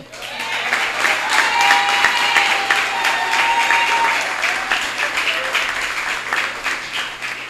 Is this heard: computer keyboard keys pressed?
no